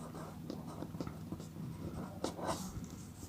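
Pen or chalk writing during a maths lecture, soft scratchy strokes in short irregular bursts close by, faint and with no speech over them.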